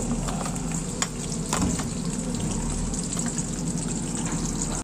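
Garlic fries in hot oil with a loud, continuous close-up sizzle, a dense crackling hiss dotted with a few sharper pops, and no talking over it.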